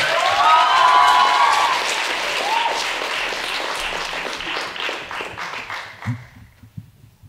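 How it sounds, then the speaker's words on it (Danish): Audience applause at a 2013 poetry slam: dense, loud clapping from a crowd that holds steady for several seconds, then thins out into a few scattered claps near the end. "Bliv ved med at klappe for næste slammer, Benedikte Jensen!"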